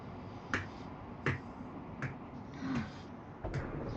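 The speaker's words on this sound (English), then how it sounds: "you hear a slow clapping." Slow, deliberate clapping during a tabletop role-playing game session: about five sharp, evenly spaced claps, roughly one every three-quarters of a second, heard fairly close over a faint room background.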